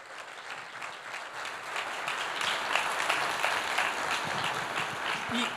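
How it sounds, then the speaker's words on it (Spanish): A church congregation claps steadily throughout, the dense applause building slightly and holding strong to the end. "Denle un aplauso, como solo en Grace Latino sabemos recibir"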